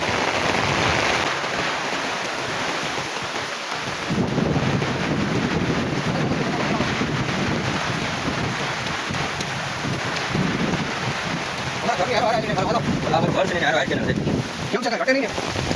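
Heavy rain driven by strong wind during a monsoon downpour with overflowing rivers and flooded fields, a steady loud roar with buffeting gusts across the whole stretch and brief voices near the end.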